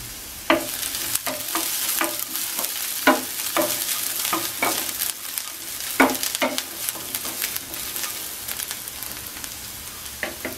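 Nuts fry with cloves and a piece of cinnamon in a pan, giving a steady close sizzle broken by repeated scraping stirs of a spoon, with no talk.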